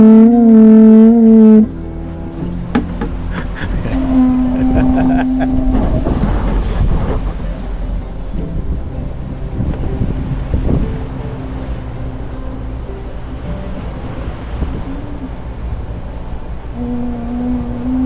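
A pū conch shell horn is blown by Mumu in the Tuamotu, opening with a loud, steady horn note and returning later as sustained tones over wind and surf. Voices talk through much of it.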